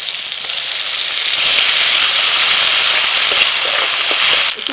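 Ginger and green chili paste dropped into hot oil gives a loud, close, steady sizzle that hisses on without a break, then eases off slightly at the very end.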